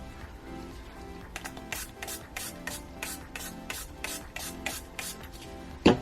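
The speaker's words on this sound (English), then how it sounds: "I will spray this with alcohol" A rapid series of about a dozen short, hissing spritzes of alcohol from a spray bottle onto fresh cold process soap, close by, with a small clatter near the end.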